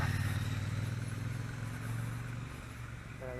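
Motorcycles driving around, a steady loud engine drone with low rumble and a slight rise in pitch near the end, continuous throughout.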